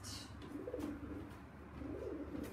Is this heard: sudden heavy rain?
no